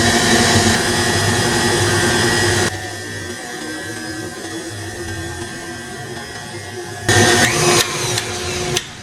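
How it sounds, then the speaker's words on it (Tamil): An electric mixer fitted with a whisk beats semolina into a Sri Lankan love cake batter, its motor whirring with a steady tonal drone, then dropping to a lower hum before revving up again near the end. "இப்போ நான் அந்த விஸ்கை மாற்றி போட்டு ஒரு 45 செகண்ட் டு மினிட் தான் பீட் பண்ண போகிறேன்னு"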